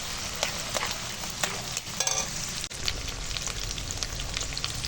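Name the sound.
cashews and raisins frying lightly in a wok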